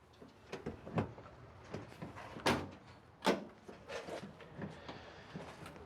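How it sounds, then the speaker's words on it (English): Van doors on a pressure wash and soft wash skid van are opened, giving a string of latches, clunks and sliding thuds, with two sharper knocks standing out among the quieter rattles. "Gonna go ahead and open up the doors here."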